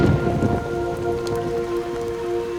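Heavy rain falling over a muddy mound at night, a dense steady patter with low rumbling underneath, alone with no voices.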